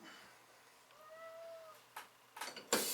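A large, heavy house cat gives a single drawn-out meow in a quiet indoor room, close and fairly soft, followed by a few brief clicks and bumps.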